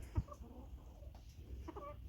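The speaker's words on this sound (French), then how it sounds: "arrête pas de chanter, fait son coq" Rooster in a backyard flock of laying hens crowing faintly in the distance, with short tonal calls near the start and again near the end over quiet background noise.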